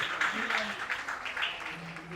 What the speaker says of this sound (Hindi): हम जोरदार ताली बजाकर उनका स्वागत करेंगे, जोरदार ताली बजाकर।